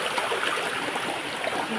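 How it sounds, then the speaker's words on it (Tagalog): Feet being scrubbed in flowing stream water, a steady soft rushing and trickling wash without a break, fairly near and moderately quiet. "Kinukudkod ko na yan ang paa ko dito sa tubig."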